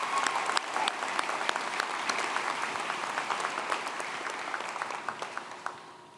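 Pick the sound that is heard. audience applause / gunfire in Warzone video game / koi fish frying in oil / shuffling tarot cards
audience applause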